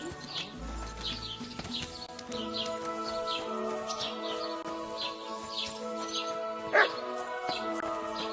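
A dog in the medieval role-playing game Kingdom Come yips and barks repeatedly at mid distance, mixed with game ambience, bird chirps and a brief sharp sound near the end.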